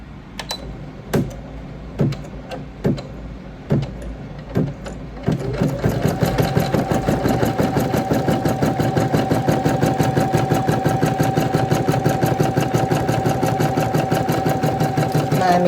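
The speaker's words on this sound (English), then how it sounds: "we're going to put it in the embroidery machine" A Brother PE900 embroidery machine stitching an in-the-hoop crochet hook roll: a few separate clacks at first, then a steady fast rhythmic needle chatter with a motor hum, close and loud.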